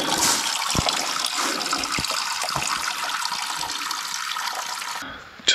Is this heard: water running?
yes